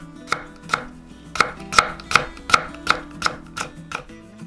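A knife slicing red carrot on a cutting board into thin 0.3 cm pieces, about a dozen crisp, evenly spaced chops in a quick, steady rhythm, close and clear with no talking.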